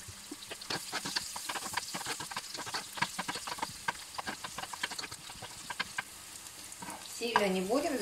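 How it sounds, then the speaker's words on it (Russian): Onions fry in a pan while being stirred, with a steady close sizzle broken by frequent sharp clicks and scrapes of the utensil, and a brief voice near the end. "Обжариваем сначала лук."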